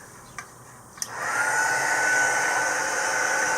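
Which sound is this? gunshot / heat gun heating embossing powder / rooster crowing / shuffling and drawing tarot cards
heat gun heating embossing powder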